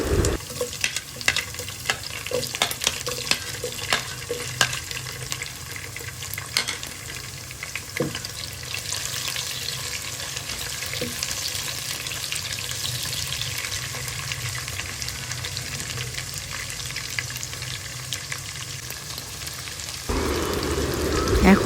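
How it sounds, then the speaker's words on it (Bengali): Garlic, capsicum, onion and tomato lightly fry in soybean oil for chicken chilli, giving a steady, close sizzle with occasional stirring clicks and scrapes throughout. "তো এগুলো আমি ভালো করে একটু ভেজে নেব, অত একটা ভাজবো না, লাইট ফ্রাই করব"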